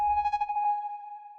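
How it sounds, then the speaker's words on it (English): A bright synth accent in a music loop for a sample: a pure sustained tone with a quick tremolo-like pulse that settles into a clean, slowly fading ring, heard alone. "So I added this little synth accent here."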